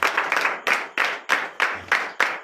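A church congregation in Comè, Benin, clapping in unison: about ten evenly spaced, loud rhythmic bursts of claps, each decaying quickly before the next.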